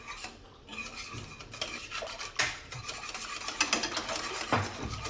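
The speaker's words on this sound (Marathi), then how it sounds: "हे छान असं फेटून घ्यायचं आहे अगोदर." Kadhi batter of gram flour and water being whisked in a pot, plain with no oil or spices, gives a steady scraping, rasping churn with irregular stronger strokes, close and alone.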